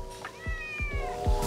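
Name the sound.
stray cat meowing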